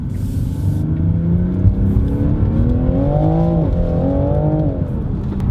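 A 2020 Toyota Supra's engine hums low and fairly subdued, with its pitch sliding up and settling back as it revs, close by and without talk.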